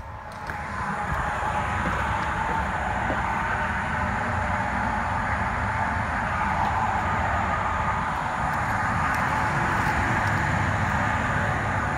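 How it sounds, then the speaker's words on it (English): Steady outdoor road traffic rumble and hiss fills the air around a parked 2021 Keystone Sprinter 3550 MLS fifth-wheel trailer in Houston in light rain, a continuous broadband wash of passing vehicles at moderate distance. "It's a little noisy out there from the traffic"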